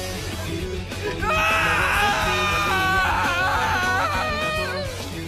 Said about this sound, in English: listening to Ishimaru's heart-wrenching screams